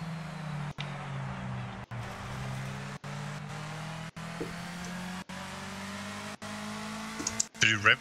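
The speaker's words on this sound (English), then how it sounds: "Did you rev this one to the maximum?" A race car in the Project CARS 2 sim racing game holds a steady engine drone while leaving the pits, with brief dropouts and a burst of revving near the end; a voice talks over it.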